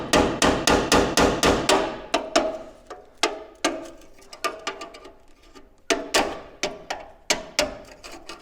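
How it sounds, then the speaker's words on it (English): Hammer and dolly strike the bent edge of an upper cowl panel on a 1980 Chevy Silverado truck during rust repair, loud sharp metallic blows landing in quick rhythmic bursts with brief pauses between runs. "I'll have to straighten that edge out with the hammer and dolly."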